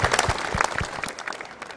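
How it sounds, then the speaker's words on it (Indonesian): A burst of applause from a crowd, steady clapping at moderate volume that thins out toward the end. "Tepuk tangan."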